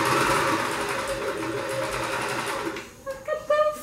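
Domestic sewing machine stitching a shirred elastic stretch dress: a close, steady mechanical whirr that runs for a few seconds, then stops, followed by a few light clicks and handling noises.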